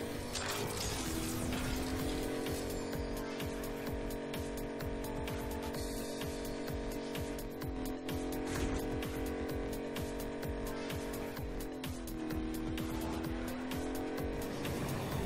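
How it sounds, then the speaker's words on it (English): A car driving in the Agents of Mayhem video game, a steady engine drone with rising and falling revs as gears shift, loud and continuous throughout. "Splendid day for a drive,"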